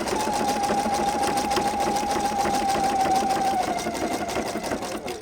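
A sewing machine stitches around a corner of fabric, a continuous fast mechanical whirring hum with rapid needle chatter that eases slightly in pitch toward the end, heard alone at close range.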